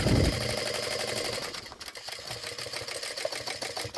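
A sewing machine stitches around a backpack panel, a loud steady whirring run at first that fades and turns quieter and more uneven toward the end.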